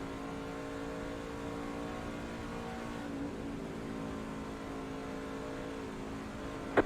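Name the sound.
race trucks accelerating at the start of a race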